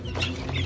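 Soft clucking from a rooster up close, a brief low burbling call over a faint steady hum.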